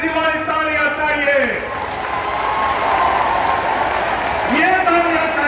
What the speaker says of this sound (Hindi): ये तालियां आखिरी छोर तक बजनी चाहिए।